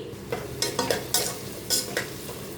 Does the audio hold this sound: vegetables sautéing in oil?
yes